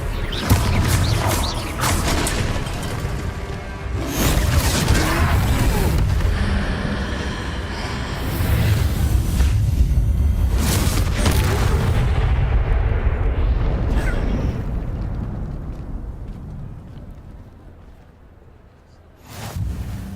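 Fiery Confringo spell blasts in the Hogwarts Legacy game boom loudly in quick succession, layered with rumbling debris and combat noise, then fade toward the end.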